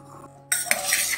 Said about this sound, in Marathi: आधी मेथीची पावडर, लिंबाच्या साली, हे सगळं मिरच्या सगळं कालवून घेऊया